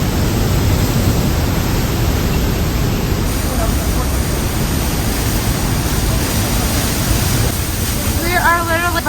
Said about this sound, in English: We are literally behind the waterfall.